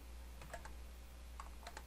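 Faint keyboard typing: two short bursts of quick key clicks over a quiet steady hum, close and soft, with no one talking.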